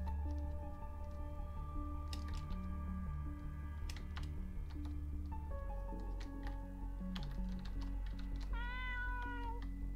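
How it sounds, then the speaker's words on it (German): A cat meows from within the Vampires Dawn 3 role-playing game, a short rising-falling cry heard near the end over a steady layered game music backdrop. "eine Katze."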